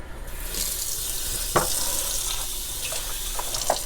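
Water runs steadily from a household tap into a sink while glassware is being washed, a constant close hiss of flow with a few faint clinks and splashes and no talking.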